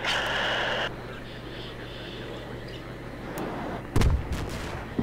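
Artillery bombing in the video game Battlefield 3, a muffled low rumble of distant blasts followed by a sharp, close explosion with crackling aftershocks, faint game noise beneath.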